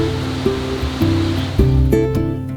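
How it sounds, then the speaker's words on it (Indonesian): A steady, loud rush of falling water at Curug Tangerang waterfall in Sukabumi, Indonesia, with a low humming tone running underneath. "Nyampe air terjun. Ini dia. Curug"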